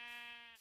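A single drawn-out sheep bleat from the Minecraft video game, close and clear, with a wavering tone that breaks off into a brief, different sound at the end.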